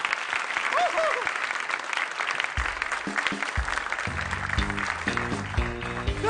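An audience claps steadily for a volunteer called up on stage, the applause sustained across the clip while music with a bass line enters partway and a voice cheers briefly.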